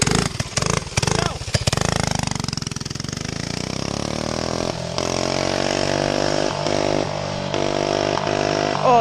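A tuned Briggs animal racing engine on a Mar-gay Lynx runs loud and close, a harsh steady drone after a few rough, sputtering revs at the start, with pitch settling as it holds speed.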